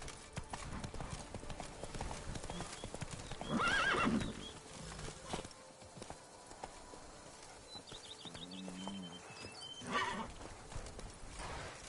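Hooves of Roach, Geralt's horse in The Witcher 3, clip-clop in a steady galloping rhythm, with a loud whinny near the middle and game music and effects underneath.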